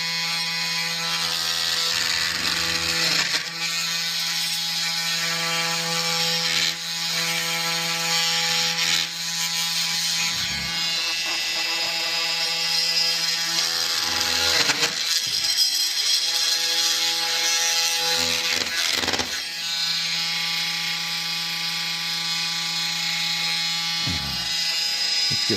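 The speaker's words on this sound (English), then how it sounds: "we're gonna use our multi-tool here, and then we're just gonna cut it right along the truss line here" Oscillating multi-tool cutting through drywall along a truss line, a loud continuous buzzing rasp with brief pauses and restarts throughout, no talking.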